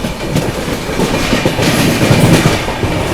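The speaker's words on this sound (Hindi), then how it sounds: "देखो सामने ये लगी हुई है sleeper Vande Bharat express crossing के लिए" A Sleeper Vande Bharat Express crosses close by, a continuous loud rumble of rolling wheels with rhythmic clickety-clack beats over the rails, heard alone with no voices.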